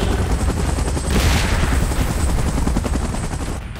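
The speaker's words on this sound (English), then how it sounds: "Chopper in position." A helicopter in the PUBG game's Godzilla vs Kong mode roars with a loud, steady rotor wash, with rapid gunfire-like bursts mixed in throughout.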